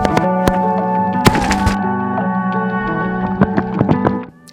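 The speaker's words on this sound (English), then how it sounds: "Back at the camper, shooting the bow a few times." A Mathews V3 compound bow is shot several times at a camper during an Arizona mule deer archery hunt, giving a series of sharp, separate thunks over a steady humming background.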